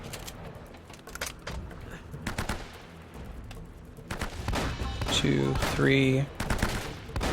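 Enemy gunfire in Uncharted: Drake's Fortune, a run of sharp shots and bursts that grows louder and denser toward the end over game ambience, with a voice counting in the background.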